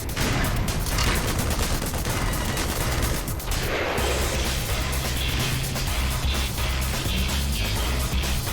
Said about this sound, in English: Right, wait till the shooting stops.